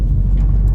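Porsche 996 Turbo engine idling, a loud, close, steady low rumble that holds for under a second.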